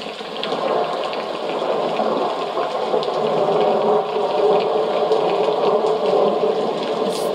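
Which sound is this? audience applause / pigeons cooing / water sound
water sound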